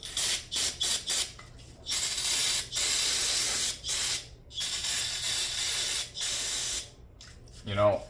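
Aerosol spray can of cleaner sputtering as it runs out while cleaning the body of an old lawnmower, hissing in repeated bursts broken by short gaps, with a brief rattling sound near the end.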